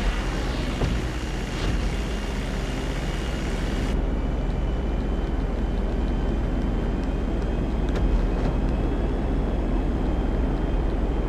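A jet airplane engine in GTA Online drones as a continuous loud roar with a steady tonal hum, at night in the game, holding at an even level throughout without speech.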